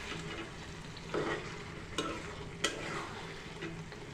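Soaked mung dal is stirred in a frying pan with hot oil, giving a soft continuous sizzle broken by a few sharp scraping strokes of the spoon, fairly quiet and close.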